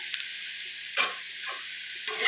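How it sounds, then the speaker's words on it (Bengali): Potato pieces being fried until red and crispy sizzle steadily in a pan, broken by two short, loud scraping stirs about a second apart, close and with no talking. "আলু ভাজাটা করে লাল লাল করে ভেজে নিচ্ছি, ভেজে নিয়ে তুলে নেব।"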